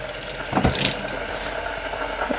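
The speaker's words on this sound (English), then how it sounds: "just rinse my hands here" Tap water runs into a kitchen sink while hands are rinsed under it, a steady close splashing hiss with a brief louder gush midway.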